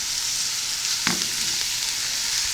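Vegetables sauté in a stock pot with a constant hissing sizzle, and a single sharp scrape or knock of a spoon near the middle; no voices.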